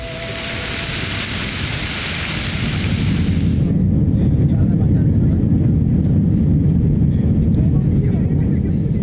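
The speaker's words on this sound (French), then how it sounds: "Nous prenons l'avion pour une rencontre avec le Chili." Airliner cabin or engine roar, a loud steady broadband rumble with hiss, heard at the start of a flight to Chile; the bright high hiss drops away after about four seconds, leaving a dense low drone.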